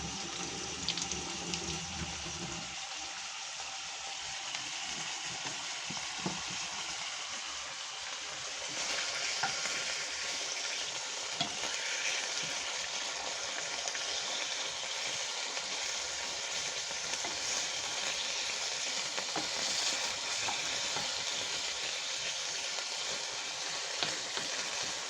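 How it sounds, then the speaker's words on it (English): Angus steak strips sizzle steadily in a hot skillet, a loud continuous crackle and hiss with occasional stirring sounds, no voices over it. "Sizzle, sizzle."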